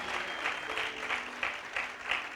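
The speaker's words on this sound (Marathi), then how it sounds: "जितके लोक आनंदी असतील ते जोरात टाळ्या वाजवून परमेश्वराला धन्यवाद देतील" A church congregation applauds in thanksgiving, dense continuous clapping from many hands that swells and ebbs slightly, with no talk over it.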